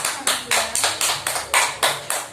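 Rhythmic classroom clapping during an Islamic studies lesson, a group of students beating out eight sharp, evenly spaced claps in unison, loud and close with no talk over it.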